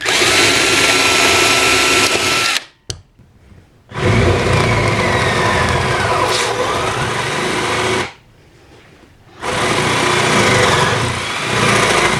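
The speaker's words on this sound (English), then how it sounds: "I'll get underneath the baseboard and drill it using a 10mm drill" A power drill with a 10mm bit whines steadily in loud, close bursts while drilling through a baseboard, stopping briefly twice before starting up again.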